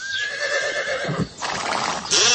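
A horse whinnies loudly and close in a Greek radio advert, a bright rising neigh with a trailing shake, followed by a second burst, with no voices over it.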